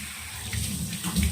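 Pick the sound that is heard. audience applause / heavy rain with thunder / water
water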